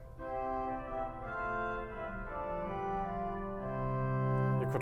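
A 1906 Felgemacher pipe organ plays with the Nasat 2 2/3 and terz stops drawn, giving a bright, reedy solo timbre; sustained chords and a moving melody ring steadily and fairly loud in a resonant room, with no talking.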